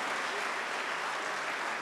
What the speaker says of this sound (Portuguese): Então aplauda o Senhor.